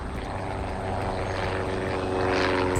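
A propeller aircraft drones steadily and loudly overhead. The engine hum stays constant and swells slightly toward the end, with no voices.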